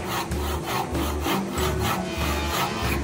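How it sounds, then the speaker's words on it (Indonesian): A hand crosscut saw cuts through wood with steady back-and-forth strokes, about six rasping passes in a regular rhythm, close and clear with no talking. "lakukan pemotongan kayu menggunakan gergaji potong"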